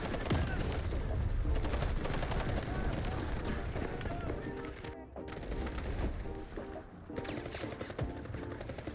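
Rapid automatic QBZ assault rifle fire in a video game, dense bursts of shots with brief gaps, loud and close, mixed with game noise and some speech.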